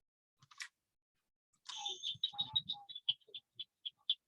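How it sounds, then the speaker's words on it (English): Cricket frog calling beside a pond in the evening: a run of sharp, clicking notes repeating at a steady pace, fairly close and clear against a quiet background, with a few other faint chirps. "so that was a cricket frog call"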